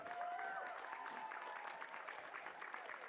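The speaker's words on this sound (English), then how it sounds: "give a big round of applause for Jillian Stratton, ladies and gentlemen" A crowd at a women's timbersports championship applauds a competitor, a faint, distant, steady patter of clapping that runs throughout under a few brief background voices.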